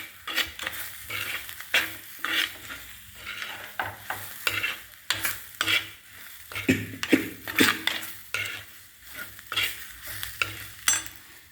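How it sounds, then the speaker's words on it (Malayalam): Prawn masala with small onions, green chili, ripe tomato, garlic and chili powder stirred in a pan, with repeated close scraping and clinking spoon strokes in an uneven rhythm over a soft sizzle, no talk. "വെളുത്തുള്ളി ഇത്ര ഇട്ട് ഞാൻ മുളക് പൊടിയും ചേർത്തിട്ട് ഇളക്കുക."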